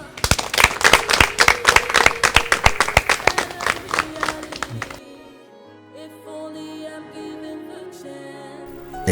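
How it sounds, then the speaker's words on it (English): A group claps after an aerobics session, sharp loud claps in a quick uneven rhythm for about five seconds, then stops as music takes over. "you all deserve a big clap"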